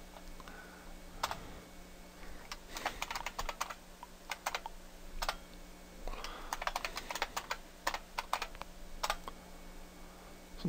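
Quick bursts of typing on a computer keyboard, clicky keystrokes coming in uneven runs with short pauses, close and fairly quiet.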